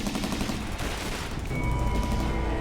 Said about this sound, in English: big fiery explosion on Doctor Who.